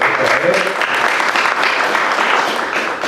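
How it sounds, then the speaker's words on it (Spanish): Audience applause at a citizens' forum gathering, a dense steady clatter of many hands clapping close and loud, with a voice speaking over it. "Un fuerte aplauso"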